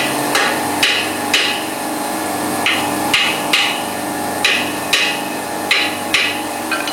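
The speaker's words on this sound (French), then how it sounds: "Je vais lui mettre encore quelques petits coups de marteau dans la gueule, ça va l'aider un petit peu je pense." Hammer blows struck on a refrigeration oil separator in a negative-temperature compressor rack, about ten sharp metallic knocks at a fairly regular pace, loud and close against a steady machinery hum.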